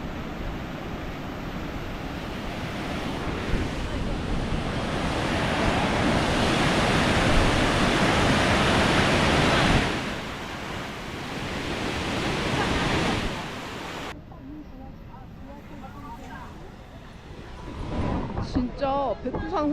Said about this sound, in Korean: 이제 폭포, 백두산 폭포 보러 갑시다.